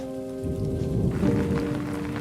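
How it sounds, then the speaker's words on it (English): Steady rain falling outdoors in Jersey City, a dense continuous patter with a low rumble beneath and faint tonal hum, no voices. "It's raining."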